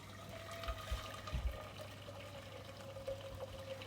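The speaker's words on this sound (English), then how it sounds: "To pour some water from the kettle really hot into a pot." Hot water pours steadily from a kettle into a pot, a continuous splashing trickle with a few soft clunks near the start, close by and fairly quiet.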